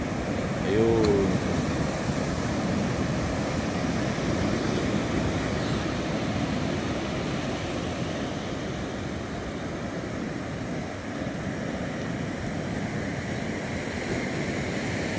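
Sea surf at a beach resort in Bagbag, Bauang, La Union, a steady broadband wash of waves with wind rushing across the microphone, holding near-constant loudness throughout with no distinct breaks.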